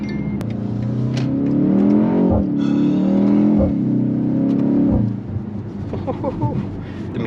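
Four-cylinder engine of a 2024 BMW X1 M35i revving and pulling while driving on a rainy day, a loud sustained drone that rises and then eases off near the end, with voices talking over it inside the cabin.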